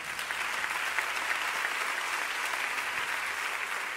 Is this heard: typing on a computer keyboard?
no